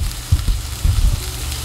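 Pork chops frying in a pan make a steady close sizzle with a few soft bumps and thuds from the cookware, no talking.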